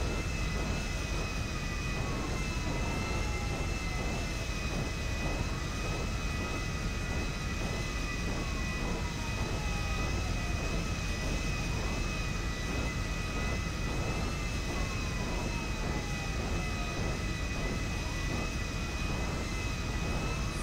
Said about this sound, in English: Cargo plane picking up his cargo.